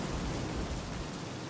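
Heavy rain pours at a mall in the Battlefield Hardline game, a dense, steady hiss that stays constant throughout with no voices.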